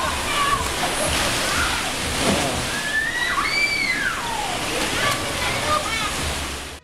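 Pool water sloshing and splashing aboard a cruise ship rolling in a storm, a steady broadband wash with waves surging back and forth, with faint voices and whistle-like cries over it.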